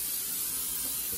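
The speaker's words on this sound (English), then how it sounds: "so just spray over it because you need some of the oil to fry" Olive oil is sprayed over fried pork in a kitchen as one short, steady, soft hiss.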